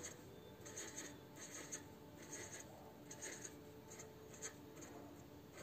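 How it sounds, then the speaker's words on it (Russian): Pen on paper drawing polka dots during a cat drawing, heard as a series of short, quiet, soft scratchy taps and strokes in an irregular rhythm, close up, with no talking. "Я рисую горошинки."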